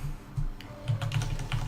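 A short flurry of keystrokes on a 6G V2 computer keyboard, close and moderately loud over a low background hum.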